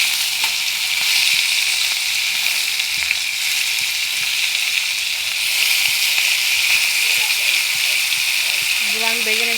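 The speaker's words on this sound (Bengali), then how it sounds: "তো এবার আমি দিয়ে দেবো মাথাগুলো ভেজে নেব।" Tilapia fish heads fry in hot oil, giving a steady, loud broadband sizzle that runs the whole time, with a few small pops and a faint tonal clink near the end.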